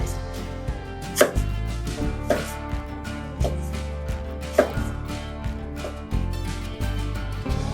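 White onions being chopped with a knife on a board in a steady series of crisp, close chops. Background music plays underneath throughout.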